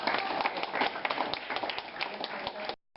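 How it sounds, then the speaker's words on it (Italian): Audience applause for volunteer associations at a local authorities' holiday greeting event in Novi Ligure, steady dense clapping close by for nearly three seconds, then cutting off abruptly. "Dai un applauso anche a te"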